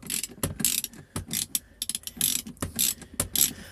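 A small ratchet clicks rapidly in uneven bursts while undoing bolts on a Ford SN95 console, close and crisp with no voices.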